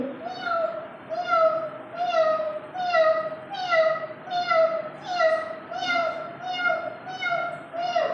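A voice imitates a kitten, giving a long series of evenly spaced high mewing cries, about one each second, close and clear.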